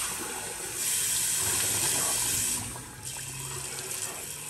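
Water splashing as a face is wetted before a shave, a broad running-water wash that swells for a couple of seconds then settles to a steadier trickle, close and alone without talk.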